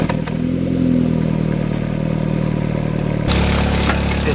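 Vauxhall Astra VXR engine idling with an exhaust leak, a loud steady rumbling drone with a rapid blowing pulse, heard close and continuous, with a brief shift in tone near the end.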